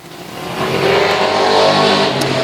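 Race cars at Sauble Speedway in a United 8s race roar around the track, engines droning and rising in pitch as they pass close by, loud and continuous with no talk.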